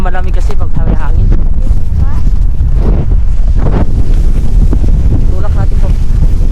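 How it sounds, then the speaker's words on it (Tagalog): Strong wind in Greenland buffets the microphone in a constant loud roar, with people talking underneath. "Malakas yung hangin dito."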